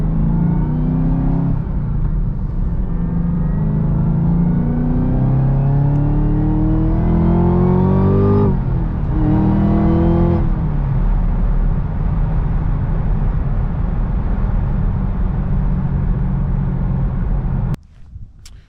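Chevrolet Camaro ZL1 V8 engine revving and accelerating close up, pitch climbing through several gear-like sweeps before settling into a deep rumbling idle, then cutting off abruptly at the end.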